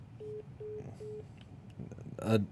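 A faint telephone line plays three short, evenly spaced electronic tones, like a number-not-in-service signal on a cold call. A brief burst of noise follows at the end, and there is no speech over it.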